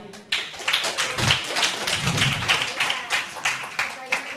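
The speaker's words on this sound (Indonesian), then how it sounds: "Kita tepuk tangan sekali lagi." An audience at a debate event between a Muslim convert and a Christian pastor claps, with rapid dense handclaps running throughout and a voice speaking briefly over them.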